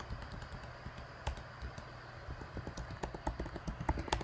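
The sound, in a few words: typing fast on a computer keyboard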